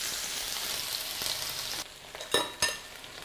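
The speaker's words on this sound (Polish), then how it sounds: "I smażymy, proszę Państwa, cebulę." Red onion frying in a pan for a vegetarian stuffed-pepper filling, a steady soft sizzle throughout with a couple of sharper crackles or utensil scrapes near the end, close and alone.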